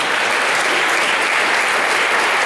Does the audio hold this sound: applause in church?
yes